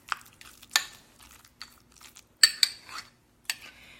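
A utensil scrapes and clicks against a bowl while stirring a softened food mixture, a few sparse close taps and scrapes separated by quiet gaps.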